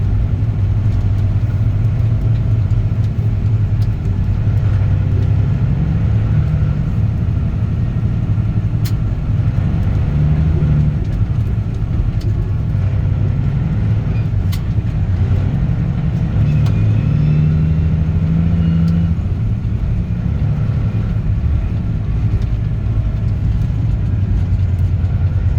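A Caterpillar C15 Acert 625 truck engine with an 18-speed transmission and a straight pipe drones with a loud, deep, steady rumble from inside the cab throughout, swelling slightly at times as it pulls through traffic.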